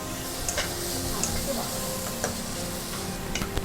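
Vegetables for spaghetti in pumpkin sauce sizzle steadily in a pan, with occasional stirring clicks and scrapes against the hot metal over a constant frying hiss.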